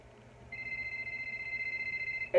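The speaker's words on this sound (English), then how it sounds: "So this is a little phone call you hear." An electronic telephone ring serves as an early-morning wake-up call in a MEPS lodging room, a steady pulsing tone that starts abruptly and continues evenly at moderate loudness, alone without talk.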